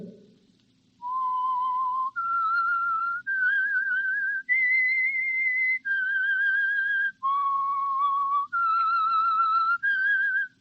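A whistled radio-show signal tune of sustained, clear notes rising and falling in a steady melody, with a faint low hum underneath.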